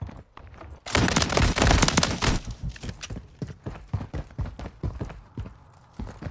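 Automatic gunfire from a light machine gun in Call of Duty: Modern Warfare III on the Rust map, a loud dense burst of rapid shots followed by several shorter bursts, with no talk.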